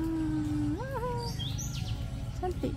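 Outdoors on a trip to Teluk Intan, Perak, a bird gives a few thin rising whistles and short chirps at moderate distance, over steady low ambient rumble.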